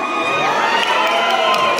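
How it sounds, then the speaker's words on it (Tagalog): A large crowd at a political rally shouts and cheers loudly, a dense, continuous roar of voices with high whoops rising above it. "Yun, sigaw naman, hilang na hilang, malakas na sigawan naman dyan."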